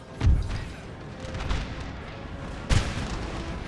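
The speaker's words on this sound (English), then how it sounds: "I think this artillery is attacking us, isn't it?" Artillery cannons fire in Napoleon Total War, with two deep, booming blasts a couple of seconds apart over a steady battlefield rumble.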